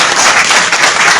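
An audience at a district bar association lawyers' ceremony applauds, a loud, dense burst of clapping close by with no talking over it.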